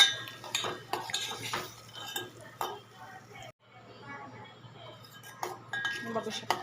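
A dal tadka mixture is stirred and sautéed in a pan. Utensils scrape and clink softly and irregularly against the metal close by while someone talks quietly over them.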